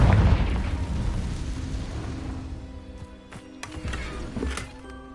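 A Confringo spell explosion in the Hogwarts Legacy video game: a loud booming blast at the start that rumbles and fades into a lingering roar, with a few sharp cracks and pops following.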